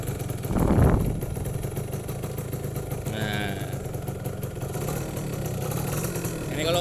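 A 2004 Yamaha F1ZR two-stroke motorcycle engine idles with a steady, close-up buzzing drone, plus a brief louder swell near the start and light background noises.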